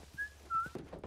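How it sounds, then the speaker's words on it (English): Ellie whistles two short, clear tones in the video game The Last of Us Remastered, faint and close, with soft background noise after. "Yep, she can whistle."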